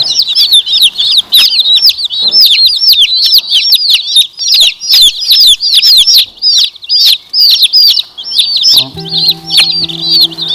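Day-old buff Wolverhampton and barred rock chicks peep constantly in loud, high, overlapping chirps heard close up, with a steady hum joining near the end.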